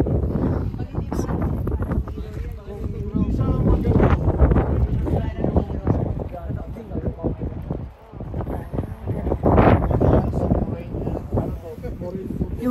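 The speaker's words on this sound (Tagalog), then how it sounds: "Sa mahangin niya, may galaw yung tubig." Wind blowing across a mountain lake in Banff, a rushing, buffeting noise near the microphone with gusts rising and falling, heard under nearly continuous talking.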